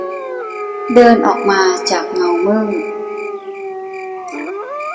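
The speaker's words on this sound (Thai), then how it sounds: "เสียงหอนของหมาป่า" A wolf howls in a dark forest on a full-moon night, a long sustained tone with rising and falling pitch that holds through the whole stretch, heard under a Thai narrator's voice.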